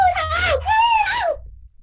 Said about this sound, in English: as he speeds through the road, he hears a woman shouting